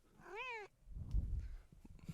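A house cat meows once, close and clear, with a rising-then-falling tone, followed by low rustling and handling noise nearby.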